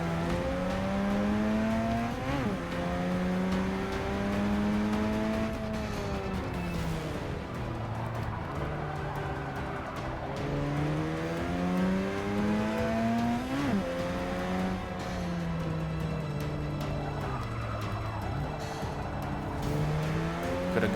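Mazda race cars, including an MX-5, roar through laps in the Forza 6 racing game, engines rising and falling as gears shift, with occasional tire squeal, loud and continuous with no talk.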